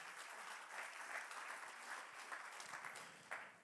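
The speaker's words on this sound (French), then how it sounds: "un applaudissement à celui qui veut faire toutes choses en nous" Dense, continuous applause from a church congregation during a French sermon, a soft wash of many hands held steady for a few seconds, faint and distant.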